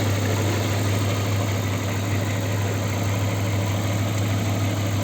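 An Audi A8's 4.2-litre ABZ V8 idles warm at operating temperature, a loud, steady low hum with an even vibration, unchanging throughout, heard close up with no voices.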